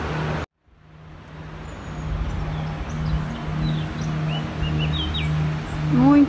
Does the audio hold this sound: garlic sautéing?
no